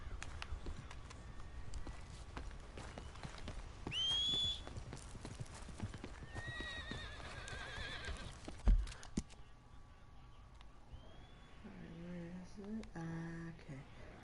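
Horse in the Red Dead Redemption II video game neighs sharply, and its hooves clip-clop steadily along under a voice. A louder thud lands partway through.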